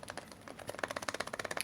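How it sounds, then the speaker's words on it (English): Rapid, quiet plastic clicking and tapping in a quick irregular series as a toy Godzilla figure's leg joints knock against its body up close. "That is the sound of the leg joints"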